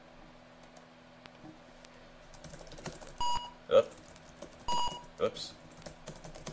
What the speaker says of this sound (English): your typing is faster than the metronome can go